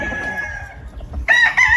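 A PSG-line gamefowl rooster crows on a farm, a loud, close call that cuts in near the end over a low murmur of background noise.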